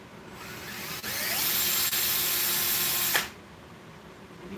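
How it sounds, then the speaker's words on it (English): A power drill boring into wood at a table, a loud steady whine that starts abruptly, runs for about two seconds and then cuts off, with no talking. "That's just something so I don't drill too much into my table."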